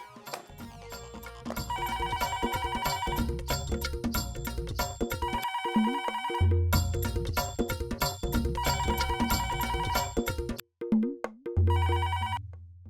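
A telephone ringtone plays a repeating electronic melody in bursts with brief gaps, loud and continuous across the clip, with no voices over it.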